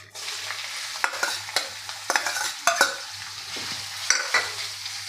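Two medium onions, finely chopped, sautéing over medium heat with cumin and mustard seeds and curry leaves for a bitter gourd bhaji: a steady close sizzle broken by repeated sharp scraping stirs of a spoon against the pan.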